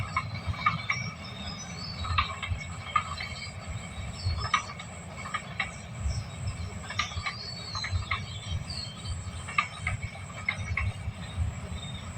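A train rolls slowly past at a distance, low rumbling with intermittent squeals and clanks from the wheels, fairly faint throughout.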